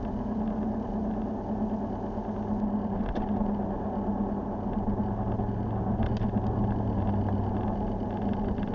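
Steady, droning engine and road noise from inside a car driving at about 80 km/h on a road in Poland, heard as a constant low hum without any speech.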